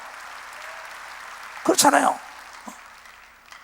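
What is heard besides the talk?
church congregation applause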